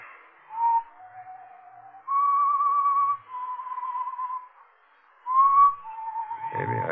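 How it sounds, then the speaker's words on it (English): A lone whistler carries a slow tune in sustained, wavering notes with short pauses between phrases, fairly close and clear in a quiet room, as part of a 1945 radio mystery drama. "But I heard that whistling again. That same tune."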